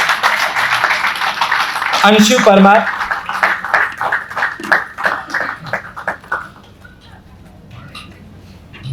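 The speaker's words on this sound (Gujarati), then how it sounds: "તાળીઓ પાડજો, તાળીઓ પર ટેક્સ નથી." An audience claps for students receiving journalism school certificates, the applause running under an announcer's voice calling out a name, then thinning and fading out.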